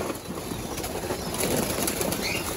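Pigeons taking off and flapping their wings as they scatter from someone approaching with food, a dense, steady flurry of wingbeats close by with no talking.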